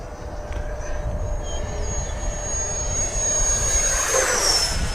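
An FMS Viper 70mm electric ducted-fan RC jet with afterburner lighting flies past, giving a continuous whooshing roar with a high whine that swells toward the end. The sound is fairly loud and there is no talk over it.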